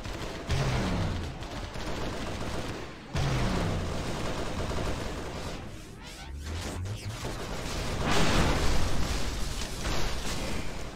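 Heavy fuel rod cannon fire in Halo SPV3.3, repeated booming bursts with rumbling explosions, dense and loud throughout with brief gaps between volleys.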